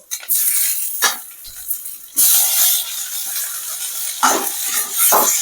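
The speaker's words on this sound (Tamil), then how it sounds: "தக்காளியை நல்லா வதக்கிங்க தக்காளிலாம் நல்லா வதங்கிட்டு இருக்கு" Tomatoes are sautéed in a pan for a potato chutney. A loud, close sizzle is broken by repeated scraping stirs of a utensil against the pan.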